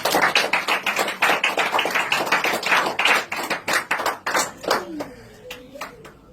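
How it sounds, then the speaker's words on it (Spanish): A church congregation claps in steady, rhythmic unison, loud and close, for several seconds before the clapping thins out and a voice speaks over the last beats. "Dale un fuerte aplauso para el Señor."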